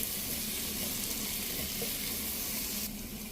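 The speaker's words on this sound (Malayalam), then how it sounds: "ഇനി ഇതിലേക്ക് നമുക്ക് 1 ടീസ്പൂൺ നെയ്യ് ചേർത്ത് കൊടുക്കാം. നന്നായിട്ട് വഴറ്റി കൊടുക്കാം." Tomatoes sautéing in ghee in a pan make a soft, continuous sizzle, fairly quiet and unbroken throughout.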